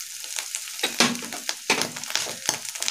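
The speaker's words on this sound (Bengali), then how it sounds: "এবার একটু নেড়ে চেড়ে নেবো মশলা দিয়ে" Spices sizzle and are stirred in a pan for a vegetarian bitter gourd curry with turmeric and green chilli paste, a steady close frying hiss broken by several sharper scraping bursts, with no talking.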